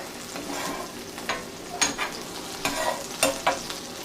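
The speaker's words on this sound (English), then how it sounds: "Now when cooking this meat, you definitely don't need to have it cooking very long at all." Beef strips for pepper steak sizzle and fry in a hot pan, a constant crackling hiss broken by several sharp scraping stirs of a utensil against the pan, close and with no talking.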